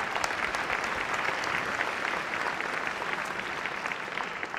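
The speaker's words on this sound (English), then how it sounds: "Let's give these sponsors a round of applause," A pageant audience at Miss Ohio 2010 applauds continuously, a thick, even roar of clapping that holds steady throughout with no one speaking.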